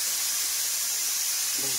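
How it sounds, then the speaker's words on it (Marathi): Steady high-pitched hiss of steam escaping from a pressure cooker cooking dal, fairly loud and continuous, with a brief low tonal sound near the end. "तिकडे कुकर लावून आणला एक गणेशला कुकर."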